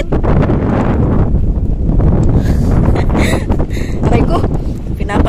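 Strong, gusty wind on Sibay Island buffets the microphone with a loud, continuous low roar that fills the whole stretch, with brief hissing rustles riding on top.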